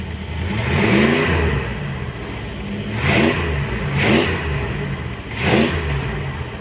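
A large car engine is snapped open at the throttle during a vacuum test, roaring up in repeated revs over a steady running drone, close and loud.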